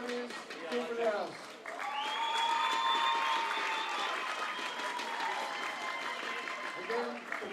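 A crowd applauds the premiers Guildford at an under-19 rugby league grand final in Parramatta, a steady wash of clapping and cheering that lasts several seconds while a voice speaks over a PA.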